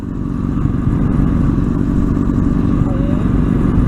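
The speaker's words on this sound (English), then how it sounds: "It looks like it's me riding my bike." A motorcycle being ridden, its engine a loud, steady close-up drone with clattering texture that holds unbroken from start to finish.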